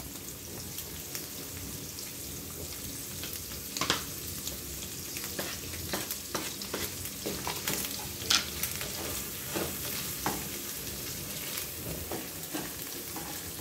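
Shallots and garlic fry in oil in a pan with a steady, close sizzle that runs the whole time, broken by occasional crackles and stirring scrapes.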